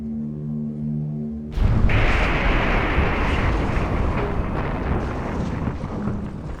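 Torpedo detonations tear apart the WWII cruiser USS Indianapolis: a low hum cuts to a sudden loud blast that rolls on into a sustained, heavy roaring rumble.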